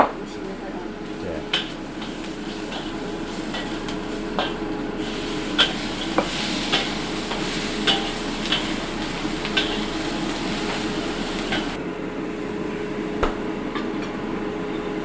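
Food stir-frying in a wok, the metal clattering and scraping in repeated sharp strokes over a steady sizzle, with people talking nearby throughout.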